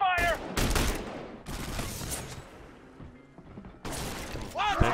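Rapid bursts of automatic gunfire from the video game The Bureau: XCOM Declassified come in loud, clustered volleys with short pauses between them, mixed with shattering impacts and some game voices.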